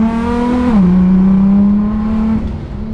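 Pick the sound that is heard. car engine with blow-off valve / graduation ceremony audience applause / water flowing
car engine with blow-off valve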